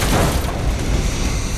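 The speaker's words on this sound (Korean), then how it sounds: "경호원이 시동을 건 순간 형준이 탄 차량이 폭발하고 맙니다" A car with a bodyguard at the wheel explodes just as the engine is started in a KBS spy drama, a loud, sustained boom with roaring, crackling debris noise filling the whole moment.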